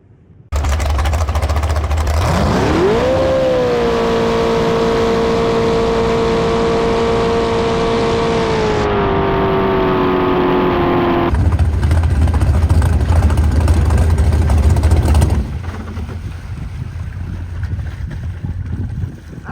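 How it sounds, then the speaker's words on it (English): A loud jet boat engine revs up and holds a droning whine, easing slightly in pitch, then shifts to a rougher rumble before dropping off. "God, that boat sounds so good."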